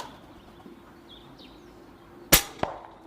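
A single sharp, loud crack from an Airmaks Krait air rifle firing an H&N pellet outdoors, followed by a fainter second impact, with faint bird calls in the background.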